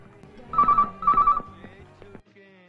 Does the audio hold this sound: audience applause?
no